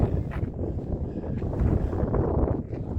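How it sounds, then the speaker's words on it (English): Strong, steady wind roars and buffets the microphone on a mountain along the Pacific Crest Trail, a low rumbling gusty rush with no voices. "It's so windy up here."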